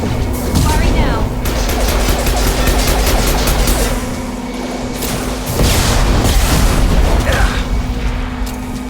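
Gunfire in a Mass Effect 2 firefight keeps up as a loud, dense stream of shots and booms for the whole stretch, over a steady low hum, with only brief dips in intensity.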